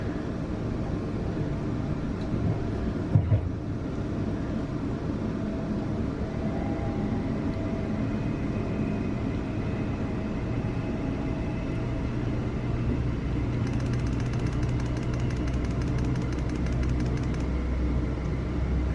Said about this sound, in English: Can hear a freight train.